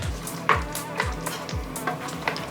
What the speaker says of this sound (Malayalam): ഇതെല്ലാം കൂടി ഒന്ന് നന്നായിട്ട് മിക്സ് ചെയ്ത് കൊടുക്കാം